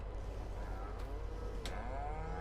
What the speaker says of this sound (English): I can't exactly leave it between the cows.